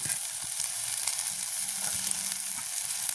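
Food frying in a pan is stirred, a dense close sizzle with quick scraping and tapping strokes of the utensil, steady and alone with no talk.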